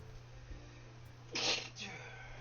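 One sharp, close sneeze bursts out over a low, steady background hum, followed by a short, softer trailing breath.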